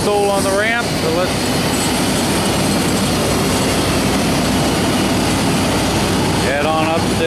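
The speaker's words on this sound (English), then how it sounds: "I've already got the APU running" An MD-10 airliner's APU runs on the ramp before engine start, giving a steady, loud, broadband roar that fills the whole stretch with constant intensity and a faint tonal whine beneath.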